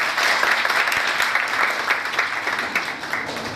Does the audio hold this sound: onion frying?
no